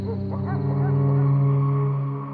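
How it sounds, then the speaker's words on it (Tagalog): A neighbours' dog howls at night: one loud, sustained, steady note held for about two seconds, preceded by a few short yelps, heard close with no talking. "Ang lakas namang umalulong nitong aso ng mga kapitbahay."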